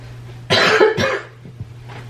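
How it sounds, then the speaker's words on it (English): A person gives two harsh, close coughs in quick succession, followed by a brief throat noise, over a faint low hum. "I can't wait for this cough to be gone."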